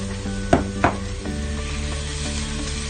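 Tomato paste hits a sizzling pan for an Ethiopian lentil stew, a steady close fry with a couple of sharp stirring scrapes early on and no talk.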